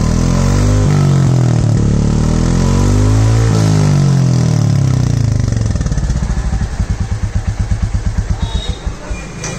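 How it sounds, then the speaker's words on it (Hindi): Royal Enfield Classic 350 motorcycle with its stock exhaust, revved loud and close with rising and falling engine pitch, then settling into a steady, rhythmic thumping idle. "आप सुनो गाइस पहले स्टॉक एग्जॉस्ट का साउंड।"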